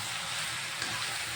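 Bottle gourd pieces stirred with a spoonful of salt in a hot pan, giving a steady soft sizzle with faint scraping under it, close and continuous with no talk.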